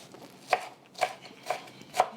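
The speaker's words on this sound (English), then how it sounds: "So we'll just chop all these up." A knife chops through watermelon and red onion on a cutting board, four crisp evenly spaced strikes about half a second apart, close and clear with no talking.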